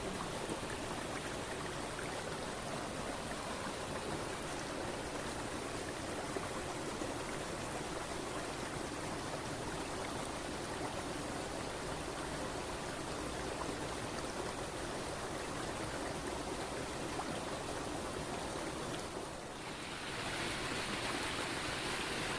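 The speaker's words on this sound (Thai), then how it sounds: "มันพัดแรง น้ำมันพัดแรงไง มันก็ยกยาก" A strong stream current pours over a natural weir in the countryside, a dense, unbroken rushing roar that holds steady throughout, with only a brief dip near the end.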